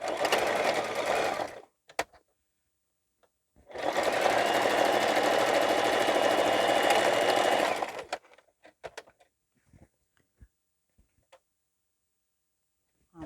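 Sewing machine stitching fabric pieces of a reversible bucket hat, two fast rattling bursts, a short one and a longer run of several seconds, close and clear, then quiet with a few faint clicks and handling noises.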